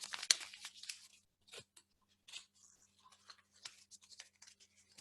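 Paper being folded up by hand, a string project for prayers, with a burst of crisp crinkling and rustling at first, then sparse soft creases and rustles, close and fairly quiet.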